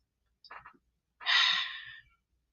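A person breathes hard: a short rough breath, then a longer, louder heavy exhalation like a drawn-out sigh, close to the microphone with no talking.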